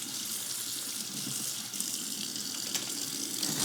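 Running water and light clinking in a kitchen sink as plastic or metal lids are washed under the tap, a steady close splash with small rattles and no talk.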